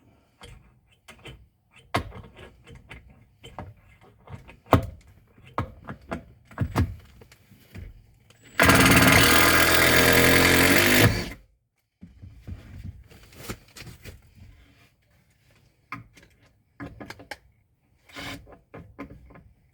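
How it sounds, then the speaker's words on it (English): One long power-driver burst of about three seconds sends a screw up into a ceiling, loud and close, amid scattered knocks, clicks and handling noises from overhead work. "We're going to put some screws in here"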